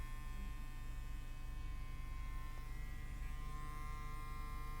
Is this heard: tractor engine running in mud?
no